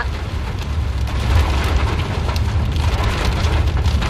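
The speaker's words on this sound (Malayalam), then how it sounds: "ഈ ഒരു സമയത്ത് നല്ലൊരു വേനൽ മഴ കാണാൻ പറ്റി" Heavy summer rain falls on a narrow tree-lined road in a dense, steady roar of drumming drops, loud and close with no voices.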